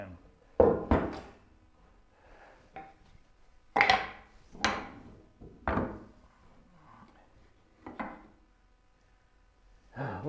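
Mallet-struck chisel chopping out waste in wood while building a Moxon vise: a series of sharp, irregular knocks and thunks, close and fairly loud, with quiet gaps between blows and no talking.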